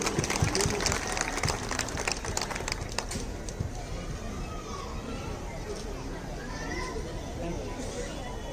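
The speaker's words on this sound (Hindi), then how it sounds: "सभी लोग एक जोरदार तालियां तिवारी जी के लिए।" An audience at a newspaper's 18th anniversary and Holi gathering in Bhayandar gives a dense burst of applause for an honoured guest, strongest at first and then settling into a rough, continuous crowd wash.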